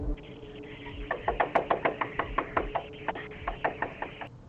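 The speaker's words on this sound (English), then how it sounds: "Young lady walk up to the door again, 3 or 4 o'clock in the morning, knocking at the door." Repeated knocking on a front door at three or four in the morning, a steady run of about fifteen sharp raps, fairly close and clear over a low background hum.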